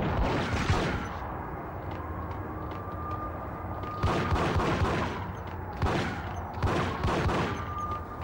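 Gunfire in the PS2 video game Max Payne, loud bursts of shots at the start, around the middle and near the end over a constant droning game background.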